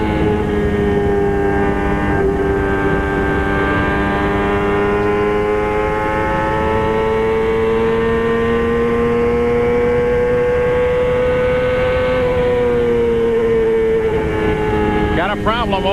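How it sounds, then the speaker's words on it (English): Onboard engine sound from a 1999 CART Champ Car at the Miami race, a loud sustained drone whose pitch dips and swells as the driver lifts off the throttle through understeer, heard up close throughout. "You can listen how much he has to come out of the throttle because of the understeers."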